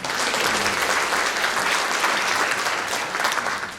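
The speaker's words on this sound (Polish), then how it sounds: "Brawa!" Sustained, loud applause from an audience thanking sponsors at a Lemko cultural meeting in Gorzów Wielkopolski, a thick continuous roar of many hands with no talk over it.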